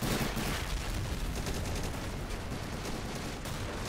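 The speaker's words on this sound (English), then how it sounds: "Move forward. Suppressing fire." Sustained suppressing gunfire in the video game AS2, set in the Battle for Shuri Castle in the Pacific campaign, forms a dense, rumbling wall of rapid shots that stays steady and somewhat distant throughout.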